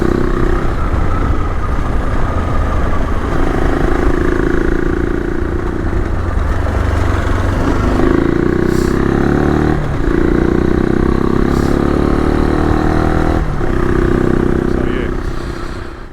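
A 2009 Suzuki DR650 dual-sport motorcycle engine runs steadily and loudly close by, idling with a few rises and falls in revs and some mechanical clatter throughout.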